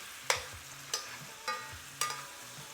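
Honey garlic pork chops simmer in a pan with a soft bubbling sizzle, broken by four evenly spaced scraping strokes of basting, each a short sharp swipe over the low steady simmer.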